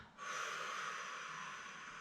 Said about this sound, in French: On retient quelques secondes et on expire.